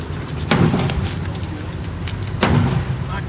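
Sledgehammer blows on a cash-for-clunkers junk car's quarter panel over the tire, two heavy impacts about two seconds apart with a metallic ring, amid outdoor background noise.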